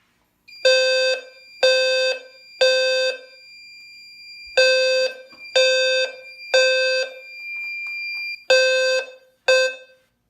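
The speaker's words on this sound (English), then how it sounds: "now we're going to go ahead and test the System Sensor i3 smoke detector" A low-frequency fire alarm sounder, set off by testing a System Sensor i3 smoke detector on a Fire-Lite MS-4 system, blares in repeated loud pulses, three, a pause with a thin steady tone, then more pulses, close and harsh.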